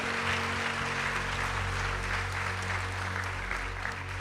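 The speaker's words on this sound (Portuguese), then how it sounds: "Mais uma salva de palmas, gente," A church congregation at a Saturday service claps in a steady, fairly faint wash of applause, heard from a distance over a constant low electrical hum from the hall's sound system.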